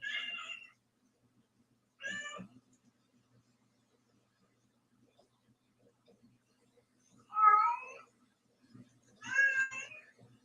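A cat meows four times in separate short calls spaced across about ten seconds, close and clear against near silence.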